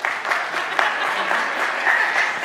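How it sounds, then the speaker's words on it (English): Church audience applauding for a few seconds at an event on helping children thrive, a dense even patter of many hands throughout. "Just show by way of applause."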